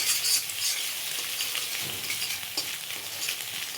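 Vegetables fry in hot oil in a home kitchen pan for egg fried rice, giving a steady, close, bright sizzle with small crackles and no voices.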